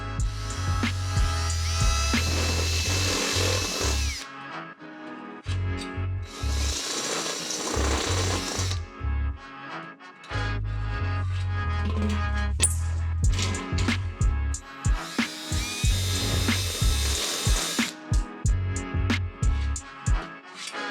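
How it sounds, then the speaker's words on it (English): A power drill whines in bursts, biting into woodstove sheet metal with grinding and rattling, pausing between runs, close and loud. "now we just need to drill 2 holes"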